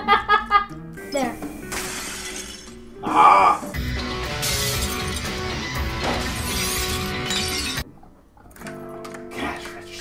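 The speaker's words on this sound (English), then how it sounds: "Get to break the glass." Glass shattering in Luigi's Mansion: a bright, loud smash with tinkling fragments, set among game music, ghostly moans and a player talking over it.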